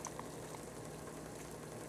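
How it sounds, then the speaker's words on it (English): Steady, soft bubbling of liquid boiling in a pot over an alcohol burner at a rolling simmer, a continuous low hiss with no voices. "It's boiling on the leftover alcohol."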